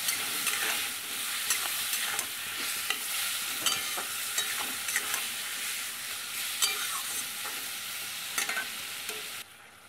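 Onion with cumin, coriander, chili and turmeric powders fries in a pan with a splash of water, giving a dense continuous sizzle broken by repeated spatula scrapes and taps, close-up and steady until it cuts off at the end.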